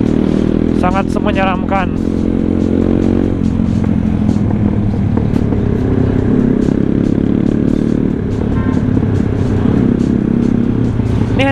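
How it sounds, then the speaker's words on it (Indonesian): A Yamaha Mio scooter speeds along a badly broken rough road, its engine droning loud and steady under constant rumbling wind and road noise, with a voice speaking briefly over it. "Ngebut banget tuh Mio"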